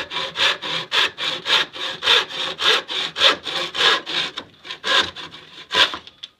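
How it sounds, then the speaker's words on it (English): A back saw cuts through a lemon wood mallet handle in about fifteen steady, rhythmic strokes, each a close, rasping push-pull, slowing and breaking off near the end. "I'm going to grab a back saw that I never knew I needed"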